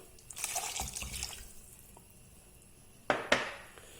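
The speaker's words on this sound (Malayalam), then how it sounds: "അതിനുശേഷം കുറച്ച് പുളിവെള്ളം ഒഴിക്കും." Tamarind water poured into a Thrissur-style fish curry, heard as a soft liquid splash early on and two sharper, louder pours near the end, close by with no talking.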